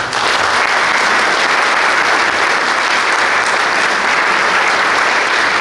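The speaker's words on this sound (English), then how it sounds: "We want to give you a big round of applause." A banquet crowd at a boys' lacrosse awards night breaks into loud, sustained applause, a thick unbroken wash of clapping from many hands held at a steady level throughout.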